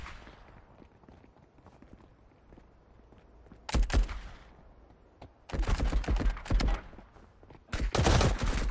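Bursts of automatic gunfire in the 2023 co-op shooter Marauders, three loud rapid volleys separated by quieter stretches of faint ambient rumble and movement, close and sharp.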